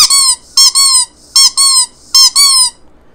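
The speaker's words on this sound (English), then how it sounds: "it squeaks just like the movie" A Wheezy penguin squeak toy from Toy Story squeezed repeatedly, giving loud, close, high wheezy squeaks in quick pairs with short pauses between, alone without talk.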